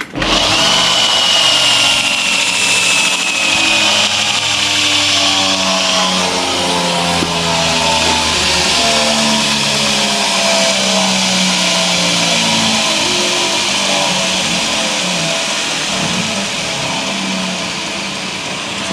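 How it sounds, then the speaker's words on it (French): An electric sander whirs up and runs steadily at high speed, loud and close, with a continuous buzzing drone throughout. "la ponceuse que je n'avais pas réussi à allumer la dernière fois"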